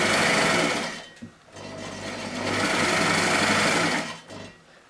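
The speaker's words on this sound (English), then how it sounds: "before we start sewing, you need to adjust it" A sewing machine stitches fabric in two loud, steady runs of rapid needle chatter, with a brief pause between them and a stop near the end.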